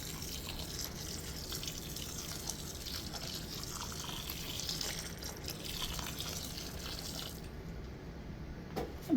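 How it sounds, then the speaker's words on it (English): Water pours steadily into a soil blocking mix, a faint continuous trickle and splash that runs throughout with small drips near the end and no talking. "So I'm going to add more water"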